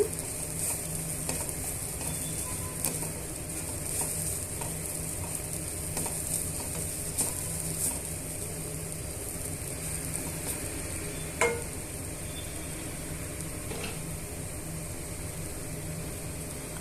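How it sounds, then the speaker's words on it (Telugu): Carrot fry tossed with dry coconut powder is stirred in a pan, giving a quiet steady sizzle with faint repeated scraping and one sharp knock of the utensil, no speech. "ఎండు కొబ్బరి పొడిని యాడ్ చేసుకున్న తర్వాత ఇవన్నీ బాగా మిక్స్ చేసుకోవాలండి"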